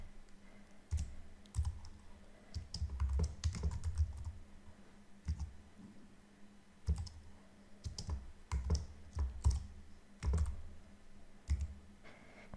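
Keys clatter on a computer keyboard in irregular bursts of typing with short pauses, close and fairly clear, no voices.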